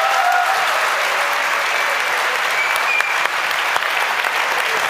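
A large audience at the 2024 Bavarian joke championship applauds loudly and continuously, a thick, even roar of clapping that holds steady for the whole stretch without speech.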